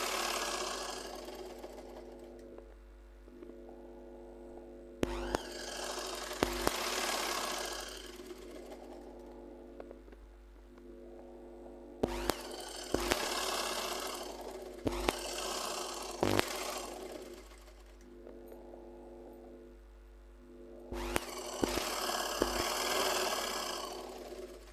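A domestic sewing machine stitching cloth, running in repeated whirring bursts of a few seconds each with short pauses between, and sharper clunks and clicks as the fabric is shifted, close and clear.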